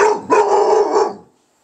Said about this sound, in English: Yeti, what are you barking at?